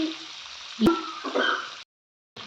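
Salted vegetables frying in a pan are stirred, giving a soft sizzle with a brief clank partway through, then a short silence before the frying resumes.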